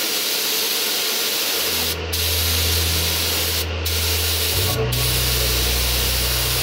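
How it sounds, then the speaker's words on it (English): A continuous hissing spray of NC dip or Nitro X chemical onto a power bank runs almost nonstop, briefly cutting out a few times, with a low motor hum droning underneath. "we're going to spray this power bank with a NC dip or Nitro X chemical"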